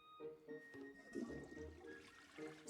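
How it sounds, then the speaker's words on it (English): A faint, quiet toilet flush sound effect from the Zelda: Skyward Sword HD game, a gurgling rush of water that swells and trickles off over a few seconds. "Still has the flush sound effect."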